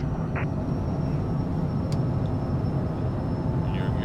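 A Cessna Citation CJ4 business jet in Flight Simulator 2024 roars steadily on its takeoff run, a constant broad engine rumble with faint cockpit chimes and a voice speaking over it.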